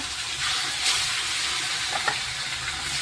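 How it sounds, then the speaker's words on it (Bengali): Small shrimp fry in hot white oil in a wok, giving a steady, close, hissing sizzle that runs throughout with a few faint clicks and bubbles on top. "মাছ ছেড়ে দিয়েছি, মাছ হালকা করে তেলে ভেজে নেবো।"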